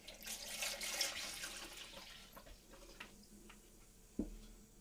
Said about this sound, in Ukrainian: Вливаємо тепле молоко.